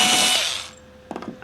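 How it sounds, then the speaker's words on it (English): A powered screwdriver whirs as temporary screws are backed out of a model railway baseboard, a loud close whine that fades out, followed by a few quick clicking knocks. "Now that I'm happy with the point positioning, I can now take out the screws"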